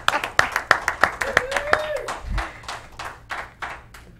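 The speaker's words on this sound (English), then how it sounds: "Give this man a round of applause." A small audience at a local talk-show taping claps in a brisk, uneven patter of sharp hand claps that gradually thins out, with people talking over it.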